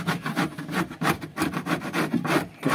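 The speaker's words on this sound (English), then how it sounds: "showing you how I scrape my nest boxes" Big scraper rasps repeatedly across wooden pigeon nest boxes in a loft, a quick rhythmic series of close, rough scraping strokes with no talk.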